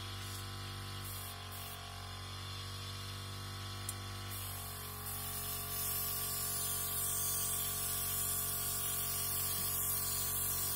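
A VEVOR electric paint sprayer spraying pigment-tinted water gives a loud, steady, continuous hiss that runs the whole stretch, with a brief shift partway through and the spray growing a little louder near the end.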